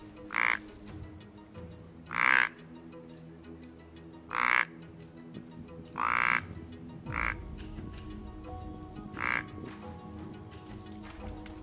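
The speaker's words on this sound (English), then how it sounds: "Being a master call builder, James did a great job with the reed, getting it where it works close range" A handmade reed deer grunt call is blown for close-range calling, giving six short, throaty grunts spaced about two seconds apart over low background noise.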